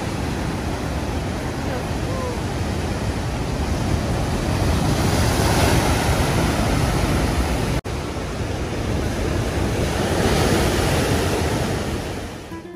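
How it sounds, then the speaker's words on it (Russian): Big ocean waves at Puerto de la Cruz, Tenerife, roar continuously, with swelling surges of surf and some wind buffeting the microphone, close and loud. "Специально оставила здесь шум волн,"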